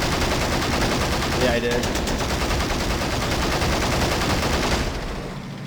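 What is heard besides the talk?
gunfire in video game Men of War: Assault Squad 2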